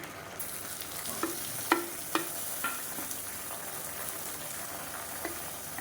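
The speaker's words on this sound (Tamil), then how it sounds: "இப்போ இந்த ஸ்டேஜில் நீளமான இருக்கிற பெரிய வெங்காயம் அதையும் சேர்த்துக்கேன்." Sliced big onions fry in coconut oil for chicken biryani. A steady, close sizzle runs throughout, with a few sharp clinks from stirring.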